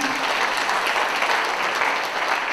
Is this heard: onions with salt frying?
no